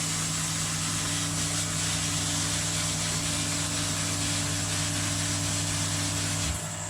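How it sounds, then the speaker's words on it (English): A Queni Koi QK15 drum filter runs its cleaning cycle with a steady mechanical hum and hiss like spraying water. The sound is continuous at moderate level and cuts off near the end. "Right on cue, it's cleaning, so sorry about the noise."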